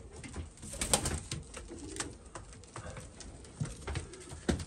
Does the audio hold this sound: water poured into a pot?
no